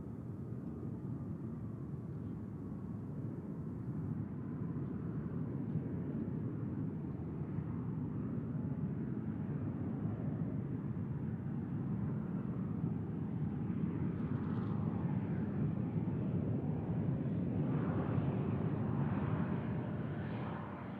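A Bombardier Global business jet at Tucson International Airport, a steady broad roar of jet engines that holds loud and even throughout, passing at moderate distance with no talk.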